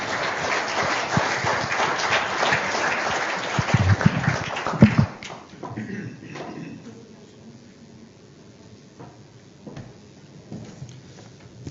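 Audience applause for the European Commissioner at a business lunch event in Porto, a dense burst of clapping for about five seconds that stops abruptly, leaving a quiet room with scattered faint movement and a few soft knocks.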